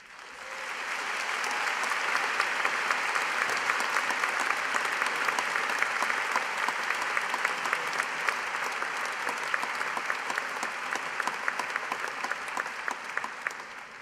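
A large crowd at a university postgraduate graduation ceremony applauds the graduating class of the Faculty of Natural Sciences, dense, sustained clapping that rises quickly and holds steady throughout.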